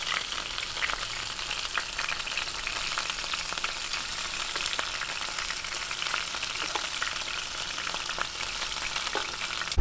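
Chicken pieces, skin side down, pan-frying in chilli garlic butter until golden brown give off a steady, close sizzle with scattered crackles and pops throughout, with no voices.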